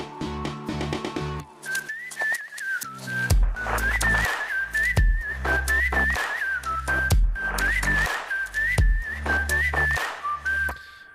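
A whistled melody, clear and prominent, carried over a driving electronic backing with heavy bass beats, the tune wavering and sliding in short phrases for roughly eleven seconds.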